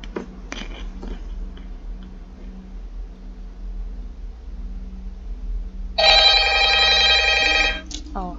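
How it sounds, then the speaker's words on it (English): A telephone rings in a Five Nights at Freddy's 2 Garry's Mod roleplay, a single loud, buzzy electronic trill of about two seconds that follows a stretch of quiet room hum and brief clicks. "Oh, yes, the phone."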